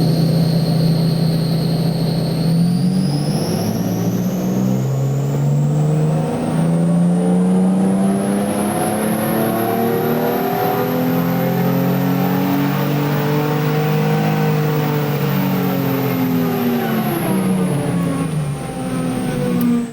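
Car engine revving through a full-power ramp run on a chassis dyno, a loud sustained whine climbing steadily in pitch for most of the run, then easing off at the end, close and without speech.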